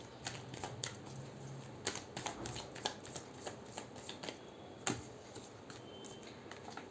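Tarot cards being shuffled and drawn by hand: quick papery riffles and light snapping clicks in an irregular patter, close and soft, with no talking over them.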